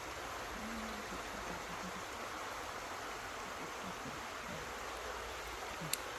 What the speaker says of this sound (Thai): สถานที่ที่เป็นน้ำไหล น้ำไม่นิ่ง